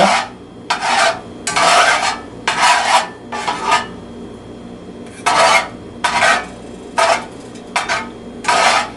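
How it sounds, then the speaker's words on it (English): Melting butter swirled around a frying pan before pan-frying trout, heard as a series of rasping, scraping sweeps of pan and utensil, each lasting under a second, in irregular bursts over a steady low background hum. "we'll give the butter a little bit more of a swirl"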